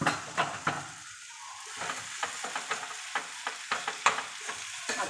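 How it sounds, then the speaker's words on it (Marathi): Chopped tomatoes go into a sizzling vegetable curry in a pan; a spoon scrapes and stirs in repeated strokes over a soft, steady frying hiss, close and with no talking. "आता मी त्याच्यामध्ये टॅमॅटो टाकते।"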